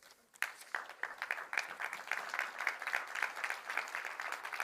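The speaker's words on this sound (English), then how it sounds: "You guys can clap if so." A small audience in a meeting or class claps briefly, starting sparse and quickly filling into steady, moderately quiet applause of individual distinct hand claps.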